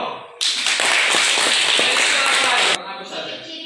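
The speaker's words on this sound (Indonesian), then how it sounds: "Tepuk tangan dulu." A class of students applauds together in a classroom lesson, a dense, steady burst of clapping lasting about two seconds, loud and close, with quieter room sound before and after.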